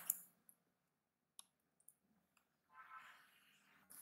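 A computer mouse clicks a few times in sparse, faint, crisp ticks at a desktop while a Windows program is built in C#, followed by a brief rustle of movement.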